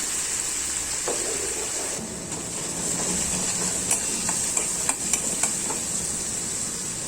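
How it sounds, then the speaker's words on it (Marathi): Ground masala paste goes into hot oil and sizzles steadily up close, with scattered spatters and stirring scrapes over the continuous frying hiss, no talk. "आता तेलामध्ये वाटण टाकलं"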